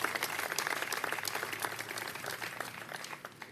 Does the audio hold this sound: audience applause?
yes